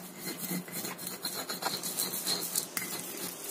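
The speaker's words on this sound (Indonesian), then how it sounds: "Kita ulek sampai halus." Spices are ground with a stone mortar and pestle, giving close, rhythmic rasping and scraping strokes of stone on stone with no talk.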